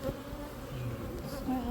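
A honey bee swarm buzzes around a hive box at its entrance. The dense, droning hum is heard up close for a brief moment, with no voices.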